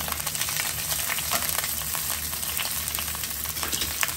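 Pak choi sears in a hot pan, giving a constant dense sizzle and crackle that stays even and close for the whole few seconds, with no talking.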